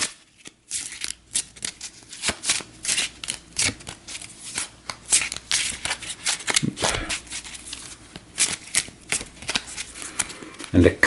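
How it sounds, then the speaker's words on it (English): A deck of cards for a boxing tabletop game being riffle-shuffled by hand, with rapid crisp fluttering bursts repeated several times in close succession, close and clear, and some talk in the background. "So we'll give this a shuffle."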